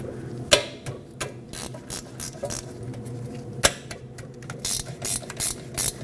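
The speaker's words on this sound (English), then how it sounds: "Now use a 13mm wrench or socket and remove these 2 bolts that hold the caliper onto the bracket." A 13mm ratchet socket loosening the brake caliper bolts on a 2016-2022 Honda HR-V, rapid close clicking in irregular bursts with a couple of sharper knocks and no talking.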